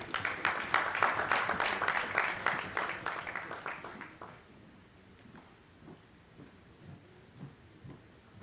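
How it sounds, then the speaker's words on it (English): Conference hall audience applause at a national labor day event, many hands clapping loudly at first and then thinning out and fading after about four seconds into scattered claps and quiet room noise. "A round of applause, please."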